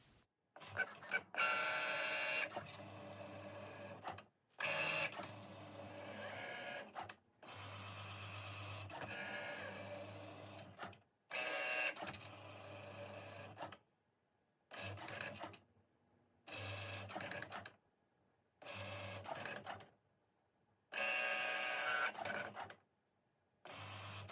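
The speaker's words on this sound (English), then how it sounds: "starting with the cutting of the face and forehead shields on the Cricut Maker" A Cricut Maker cutting machine cuts plastic face shield parts, whirring and scraping in repeated bursts separated by short pauses, sped up to sound high-pitched and quick.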